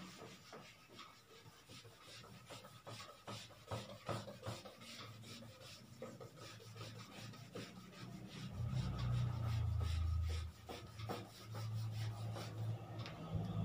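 A duster rasps across a board, wiping away math writing in a polytechnic classroom: steady dry scrubbing strokes that grow heavier and louder toward the end, with no one speaking.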